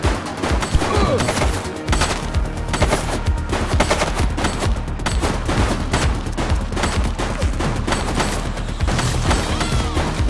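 Gunfire in The Precinct rattles in a dense, loud fusillade of rapid shots and bursts, nearly continuous throughout with no pauses.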